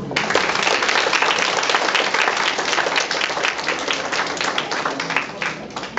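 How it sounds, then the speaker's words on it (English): Audience at an art exhibition and charity sale claps enthusiastically for a family on stage, a dense, continuous burst of applause nearby that tapers off slightly toward the end. "give them a big round of applause."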